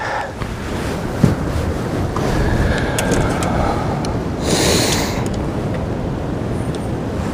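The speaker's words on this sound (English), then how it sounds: "That wind can get you in a mess real quick." Strong wind roars over open water around a fishing boat, a steady loud rush with waves lapping and gusts hitting the microphone, and no one speaking.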